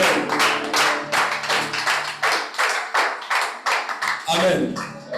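A congregation at a morning resurrection-retreat prayer claps in a quick, uneven rhythm, with loud close claps mixed with voices calling out praise.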